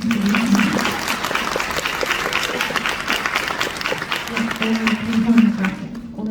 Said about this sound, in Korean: 정말 박수 하나만 부탁드리겠습니다